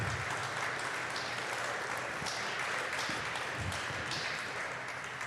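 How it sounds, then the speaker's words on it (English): Steady audience applause fills a ceremony at the opening of an emergency services building, a sustained, even roar of many hands clapping for several seconds, with a few low thumps beneath. "let's give them a big round of applause as they come over here"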